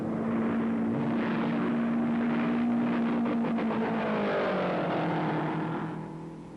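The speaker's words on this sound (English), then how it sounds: "He roared down the straightaway and ripped flat out into the high bank." A Novi race car engine at full throttle in the 1957 Race of Two Worlds, roaring loud and close along the straightaway of a high-banked closed oval, its sustained tone climbing as it passes, then fading slightly at the end.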